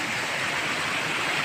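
River water flowing steadily in a creek near Bolinao Falls, a continuous broadband rush that stays constant and close throughout, with no voices.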